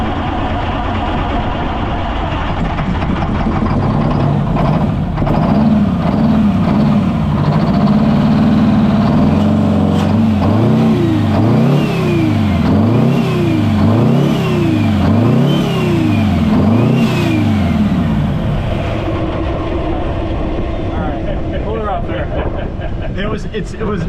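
A Detroit 8V92TA diesel that sat for 27 years cranks and tries to start, a loud, labored engine whose pitch rises and falls in repeated surges before dropping back, with background noise throughout.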